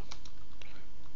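A few brisk key taps on a computer keyboard, close and clicky, over a continuous noisy background.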